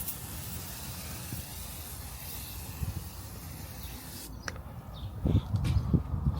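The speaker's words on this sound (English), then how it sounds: "I just want to spray some tire foam" A steady, close hiss of tire foam spraying onto a car's tires runs for several seconds and then breaks off, followed by a few soft knocks and handling noises.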